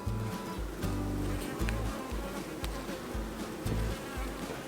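Honey bees buzz steadily around an open Flow Hive packed with capped honey frames, a dense close swarm hum with pulsing low drones as individual bees pass near, continuous with no talking.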